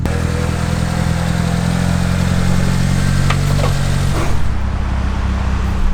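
An old turbocharged Mitsubishi Lancer idles steadily and loudly up close, a low rumbling drone with a rattling vibration running through the car body, with no speech.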